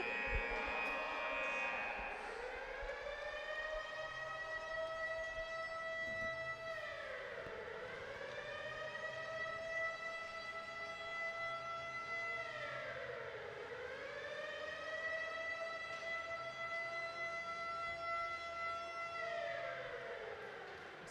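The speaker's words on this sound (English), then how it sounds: "The siren's going off." A building evacuation siren wails in long rising and falling cycles, loud and steady for the whole stretch, in a hockey arena during a boys high school game.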